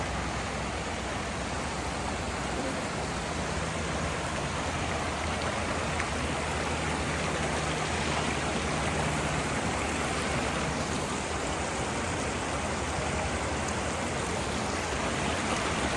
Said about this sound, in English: We are on the top of the waterfall.